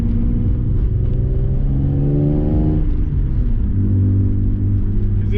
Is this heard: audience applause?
no